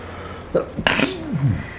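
A single close, loud sneeze from a person during a Roadcraft gaming session, preceded by a quick sharp inhale and followed by a brief voiced exhale.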